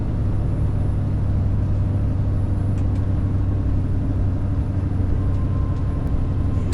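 A heavy lorry engine drones steadily under load pulling hard uphill, a deep low rumble that stays constant and loud throughout.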